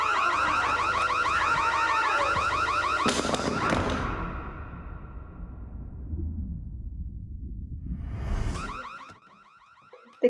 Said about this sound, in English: the audio of the alarm is cut